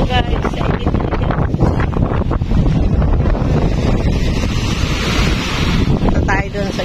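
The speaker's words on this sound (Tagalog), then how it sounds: "Lakas ng alon." Strong ocean waves surge onto the rocky shore at Ilig-Iligan beach in Boracay under loud, gusty wind buffeting the microphone, a dense continuous roar with faint voices mixed in.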